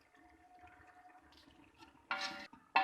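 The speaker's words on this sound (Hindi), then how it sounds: "अब हम इसमें यखनी शामिल कर देंगे, जो कि पहले हमने इसके ऊपर से उतारी थी।" Beef stock pours into a beef karahi, a faint liquid trickle followed by two short louder bursts of splashing and sizzling as the stock hits the hot pan.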